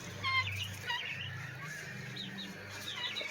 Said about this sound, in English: There's my favorite chickens again.